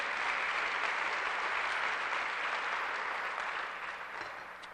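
A church congregation claps together in steady, dense applause that holds loud for several seconds before tapering off slightly, with no talking over it.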